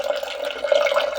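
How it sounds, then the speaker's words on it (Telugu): Tamarind water is poured into a pot for tomato rasam, a steady, close, splashing liquid stream lasting about a second with no talk. "ఇంకా రొంత పిసుకొని మళ్ళీ ఈ నీళ్ళు కూడా వేసేస్తాను"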